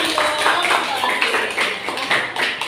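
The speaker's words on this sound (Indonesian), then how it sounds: "Boleh tepuk tangan." Classmates in a school classroom clap together after a group presentation, producing a dense, steady patter of hands that fills the room for a few seconds while voices murmur underneath.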